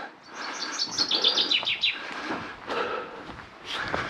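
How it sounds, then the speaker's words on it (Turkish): Birds chirp and tweet in quick, bright bursts, several calls overlapping outdoors in a village near Sinop, Turkey, with a livelier flurry early on and more scattered calls later. "Kuşlar ötünce"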